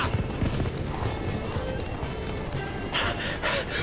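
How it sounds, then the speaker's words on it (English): A horse galloping in the video game Witcher 3, rapid hoofbeats thudding under ambient game sound, followed near the end by a short burst of rustling or sharp effects. "Run, Roach."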